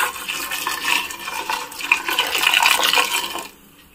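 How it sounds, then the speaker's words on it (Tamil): Milk pours steadily from a pan into a pot of boiling water on a home stove, a continuous liquid splash and bubbling that runs for a few seconds and then stops abruptly. "1/2 லிட்டர் பால் வந்து காய்ச்சி வச்சிருக்கேன், அதுல ஒரு 1/4 லிட்டர் அளவுக்கு ஊத்திக்கிறேன்"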